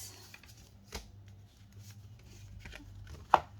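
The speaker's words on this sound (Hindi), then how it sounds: "चलिए हम निकालेंगे आपके लिए 3 कार्ड्स।" Tarot cards are handled and drawn from a deck: soft, quiet card slides and taps with a sharper snap near the end, over a faint low hum in a quiet room.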